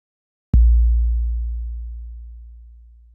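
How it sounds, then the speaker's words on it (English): An 808 bass drum hit lands once after a short silence, a sharp click giving way to a deep, sustained sub-bass boom that fades slowly over the following seconds. "we're going to use this 808 bass drum as our source"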